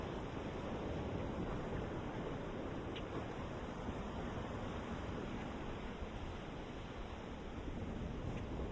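Ocean waves and the tide wash onto a beach. The surf makes a soft, continuous rushing noise mixed with a faint wind hiss, distant and even throughout with no distinct breaks.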